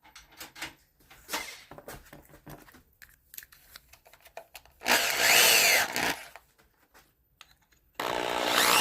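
A power drill fitted with a bigger bit, working on a 220V AC outlet rebuild, whirs in two loud sustained bursts, each lasting about a second, between stretches of quieter handling clicks and knocks.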